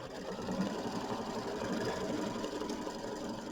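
Embroidery machine stitching a tack-down line on quilt fabric for a mini quilt, a steady rapid mechanical whirring hum with fine regular needle ticking, close and even, no voices.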